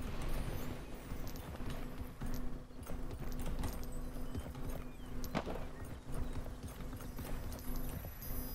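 Hooves clip-clop steadily on a horse in the Realm Royale video game, a continuous walking rhythm mixed into dense game sound effects and music, close and fairly loud throughout.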